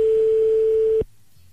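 A steady telephone line tone sounds for about a second while a call is placed to a random person, then cuts off abruptly, leaving near silence.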